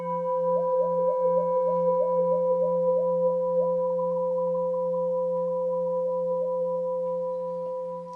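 RAMIVANA instrument played with sustained, steady harmonic tones ringing together, a rhythmic wavering pulse over the first few seconds, then holding evenly before fading slightly at the end.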